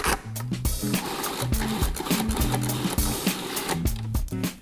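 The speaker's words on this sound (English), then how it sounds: "right into the food processor. And then a teaspoon of salt, teaspoon of pepper. It really is just like making pesto. And then grind it all up." A food processor grinds a pesto-like tomato crostini mixture with salt and pepper, giving a continuous loud whirring with rhythmic pulsing chops throughout, with no talking.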